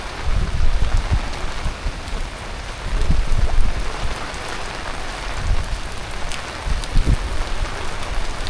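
Heavy rain pours during a monsoon trip near Rajkot Fort in Malvan, a dense, constant roar of drops with occasional louder splashes, close and steady with no talk.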